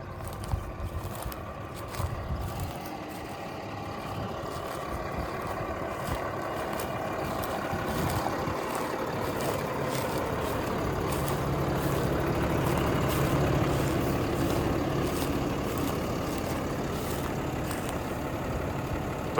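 A farm tractor's engine runs steadily while driving during hay raking, a continuous low rumbling drone with rattles and clanks, close and fairly loud throughout.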